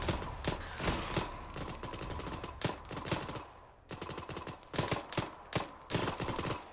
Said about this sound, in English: Oh, I got sniped.